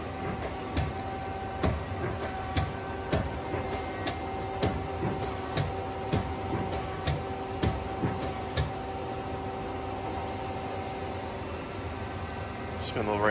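A 2007 Mazak QTN100 II CNC lathe with bar feed, chip conveyor and coolant system runs its spindle, giving a steady mechanical hum with regular sharp ticks roughly every second.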